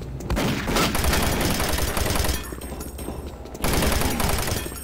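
A new gun in Doom 3 fires in a dense, continuous volley of loud shots that runs for several seconds, breaks briefly and then resumes just as heavily.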